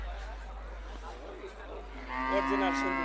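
A two-year-old Sindhi breed bull calf at a Bengali cattle market lets out a low, rising moo near the end, over a steady crowd hum and background chatter.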